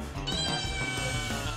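A kitten meows loudly and insistently, one long drawn-out cry held close to the microphone with no voices around it.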